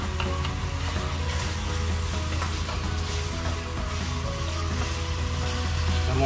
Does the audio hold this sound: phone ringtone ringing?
no